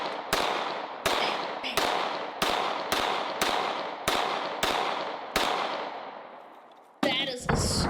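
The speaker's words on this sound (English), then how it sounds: "He's shooting into the same spots too, to try and break it." Repeated gunfire in a video game, sharp shots striking a wall at a steady rhythm about every half second, each ringing off before the next, ending in a brief burst of different clattering noise.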